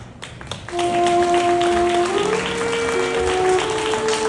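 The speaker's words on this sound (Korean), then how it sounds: "우리 내빈 여러분들께서 양가 어머님의 입장을 따스한 박수로 맞이해 주시길 바랍니다." Wedding guests in a hall applaud as the mothers of both families enter, sustained clapping rising after a quiet start and continuing over background music with held tones.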